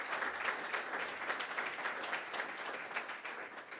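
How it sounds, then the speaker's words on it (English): Audience applause for political candidates at a London Chamber of Commerce candidates forum in London West, a steady round of many people clapping, moderately loud and unbroken, with no talk over it. "A big round of applause for them"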